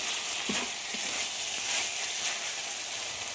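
Chicken pieces for a red lentil and chicken dish fry and are stirred in a pan, giving a steady close sizzle with a couple of soft scraping stirs near the start, and no talking.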